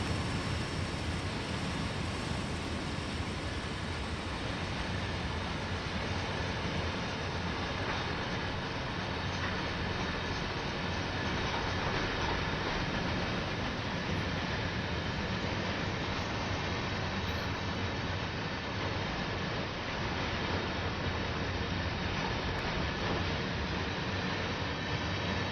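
A CSX freight train locomotive rolls past with a steady, loud rumbling roar that holds evenly throughout, with faint rail clatter and no talking.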